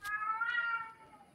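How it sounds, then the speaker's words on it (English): A cat meows in a video game, one drawn-out, tonal meow rising and falling after a brief click, fairly clear and alone, fading at the end. "he's still meowing about it"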